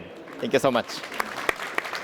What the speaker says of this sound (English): please join me in giving a big round of applause to wonderful panelists today